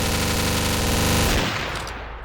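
Enemy gunfire in the first-person shooter OPS Hong Kong, built in FPS Creator, rattles out as a loud, rapid automatic burst that cuts off abruptly and leaves a short fading tail.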